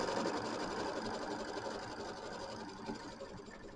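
A Kimberbell embroidery machine tacks down batting on a mini quilt, a steady, fairly quiet mechanical hum of continuous stitching with no voices.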